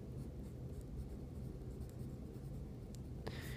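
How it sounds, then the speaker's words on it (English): Pen writing a name on a paper foldable, a faint steady scratching against low background hiss, ending with a brief paper rustle. "The first thing we're going to do is we're going to write our name on this side."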